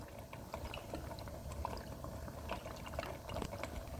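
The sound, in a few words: stirring ketchup into sloppy joe meat in a pot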